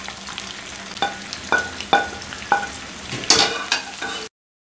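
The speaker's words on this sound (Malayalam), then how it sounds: "അതിലേക്ക് നമുക്ക് എടുത്തു വെച്ചിരിക്കുന്ന തേങ്ങാക്കൊത്തിട്ട് വഴറ്റി കൊടുക്കാം." Coconut pieces being stirred and fried in hot oil for a Kerala-style chicken curry, with a steady sizzle broken by five or six sharp scraping stirs of a spatula against the pan, close and alone.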